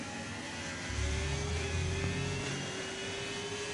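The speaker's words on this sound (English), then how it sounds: "someone outside is just expressing their desire to rev their exhaust" A car outside revs its exhaust, a muffled engine drone rising and holding for a few seconds with a low rumbling undertone, heard from indoors at moderate distance.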